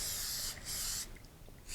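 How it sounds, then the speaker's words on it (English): Short bursts of Bake Easy cooking spray misted onto parchment paper cut to fit a cake pan, two close hissing sprays followed by a fainter tail, with no talking. "we're going to give it a light spray with some Bake Easy"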